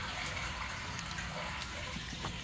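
Rainwater rushes through a storm drain in a yard, a steady, loud, even gush of water that holds unbroken throughout.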